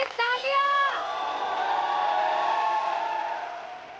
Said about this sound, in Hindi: अर्जुन के लिए तालियां।